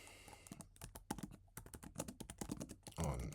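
Rapid, close keystrokes on a computer keyboard form a quick, uneven run of crisp clicks, fairly quiet and with no talking.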